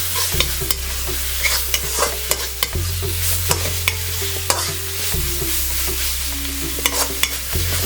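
Onion and ground paste sauté in oil, with a spoon scraping the pan in quick, irregular strokes over a continuous sizzle and a low stove hum.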